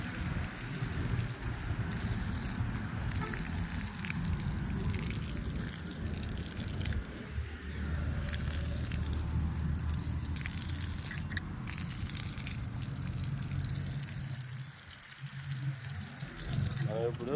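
Water is poured and splashes as feet are washed at a Hanuman temple near Mangamma College in Ongole, with dripping and wet rattling continuing under a person talking throughout.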